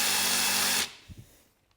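Power tool fitted with an attachment that is drill only or designed to run on impact, whirring loud and steady before cutting off, followed by a couple of faint knocks and quiet.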